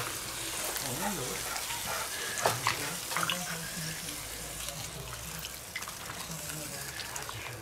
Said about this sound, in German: So, noch ein bisschen Wasser aufgießen.